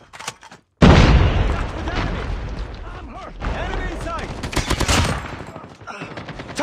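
Rapid AK-47 automatic fire with a GRU combo grip attachment in COD Mobile, loud bursts of close shots with booming impacts, followed by a second run of firing after a short pause, with voices heard over the shooting.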